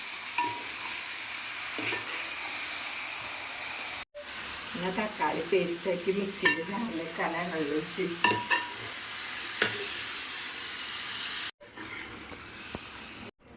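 Chicken curry being stirred in a pan, with a steady sizzling hiss and scraping spoon strokes under a woman's speech, broken by two brief silent cuts.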